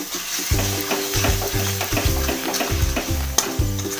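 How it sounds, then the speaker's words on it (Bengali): Chicken masala with Kashmiri red chilli sizzles in a hot pan while a spoon stirs it in repeated rhythmic scrapes, loud and close, with no voices. "ভালো করে আবারও একটু নাড়াচাড়া করে কষিয়ে নেব"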